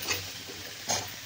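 Cauliflower and potato pieces being stirred in a pan for a rassa bhaji curry, with two soft scraping stirs a moment apart over a faint, quiet sizzle.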